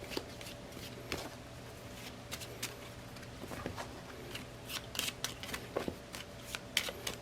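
Quiet, soft riffling and flicking of a Marvel Champions card deck being shuffled on a table, short papery bursts repeating irregularly, close and low in level with no talk.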